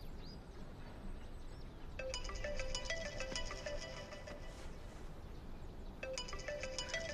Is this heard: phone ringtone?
yes